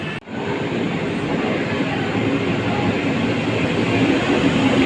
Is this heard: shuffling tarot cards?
no